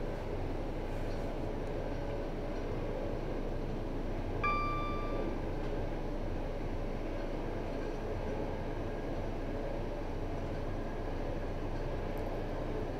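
A train rumbling steadily along the track between London Liverpool Street and Norwich in Train Simulator 2019, a low continuous wheel-and-rail drone with a brief tonal horn-like note partway through.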